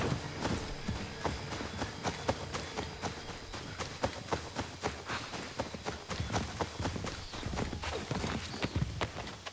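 Horse hooves clip-clopping at a steady run in Assassin's Creed III, a quick, even rhythm of near, distinct hoof strikes over a busy game soundscape, with no talk over them.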